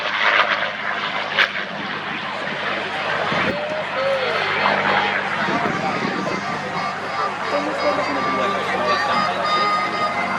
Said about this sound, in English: we do talk about it being a Rolls-Royce Merlin engine